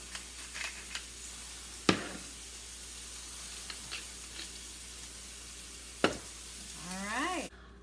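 Brussels sprouts sizzle in a pan with butter, salt and pepper, a soft steady hiss broken by a couple of sharp utensil clanks, close by with no talking.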